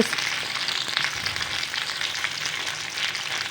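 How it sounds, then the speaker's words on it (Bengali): Pieces of pointed gourd fry in hot oil with a dense, continuous sizzling hiss and faint stirring, close and steady throughout with no voices. "এবার পটলগুলোকে ভালো করে একটু ফ্রাই করে নিতে হবে যাতে সোনালি আকারের হয়ে যায়"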